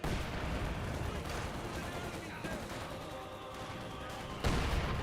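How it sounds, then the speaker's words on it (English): Mortar shells landing in Company of Heroes 2 amid constant battlefield gunfire and booming artillery, a dense continuous din with a sharper loud impact near the end, voices faintly mixed in. "Ooh, good mortar hit there."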